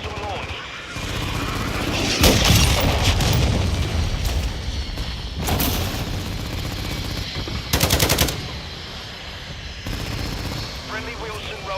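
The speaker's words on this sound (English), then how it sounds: "Friendly mortar strike inbound." In a video game, mortar strikes boom amid bursts of machine-gun fire, a dense battle din with several loud blasts while voices speak over it.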